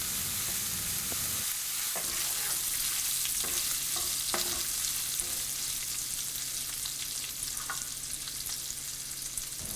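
Sweet potato bacon fries in a pan over a medium flame, giving a steady close sizzle with scattered crackles and pops and no talking.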